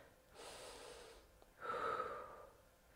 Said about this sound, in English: but breathe